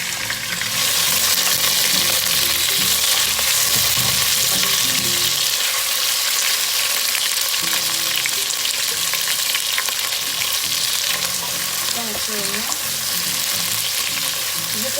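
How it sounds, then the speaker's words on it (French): Onions fry in a pan beside smoked pork chops, a loud continuous sizzle and crackle close up that holds steady throughout, with occasional stirring scrapes and a few brief clinks. "pendant qu'elles sont en train de cuire comme ça, je mets déjà les oignons"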